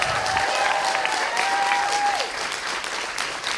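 Warm round of applause from a science-communication competition audience, full and steady at first, with a brief whistle-like tone over it, then easing slightly toward the end.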